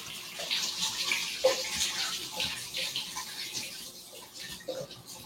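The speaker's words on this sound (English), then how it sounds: "I'm just going to rinse my hands real quick." Tap water runs steadily into a sink as hands are rinsed, a continuous close hiss with a few small splashy changes and no talking.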